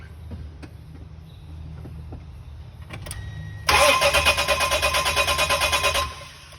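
An Isuzu Rodeo engine being cranked: quiet idle rumble at first, then loud starter cranking in steady rapid pulses for a couple of seconds before cutting off, no talking.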